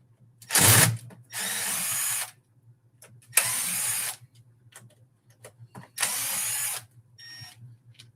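Screws come out of an RC car, a Traxxas Slash, with a small power driver whirring in three short bursts separated by quiet pauses and faint clicks, no talking.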